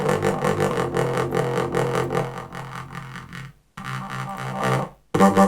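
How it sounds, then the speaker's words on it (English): Tape saturation distortion from iZotope Trash 2 thickening a full electronic music mix, a dense, gritty, loud stretch of the track playing alone with two brief dropouts. "So I added some tape saturation using isotope trash 2"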